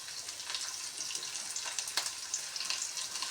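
Sliced onions hiss and crackle in a pan of hot oil over a gas flame, a steady close sizzle with no talk.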